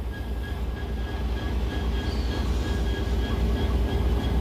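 The Indian Pacific passenger train rumbles steadily along the rails in Australia, a dense low roar with faint repeating squeals and clacks, continuous and fairly close.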